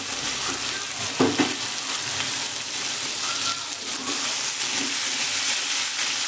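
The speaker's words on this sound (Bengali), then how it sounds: "কুমড়ো দিয়ে হালকা নেড়ে আমি দিয়ে দিচ্ছি এখানে ঢাকা।" Pumpkin and mixed vegetables, cooked in a little oil without spices, frying in a pan, a steady moderate sizzle with a few spoon knocks as they are stirred.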